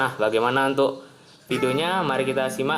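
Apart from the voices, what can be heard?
None of the usual background noises is heard.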